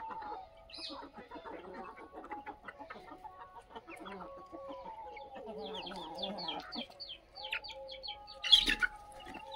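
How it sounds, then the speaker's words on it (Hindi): Aseel desi chickens cluck and murmur in short, uneven bursts through a farmyard, with a louder squawk near the end and scattered background noise throughout. "ये देखो मेरा असील मुर्गा"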